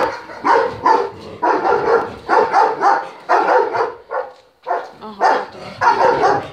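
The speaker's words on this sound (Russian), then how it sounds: "Сейчас посмотрим, там кто-то гавкает." A German Shepherd at a kennel barks repeatedly in quick, uneven bursts, loud and close, with a few short yips and pauses between volleys.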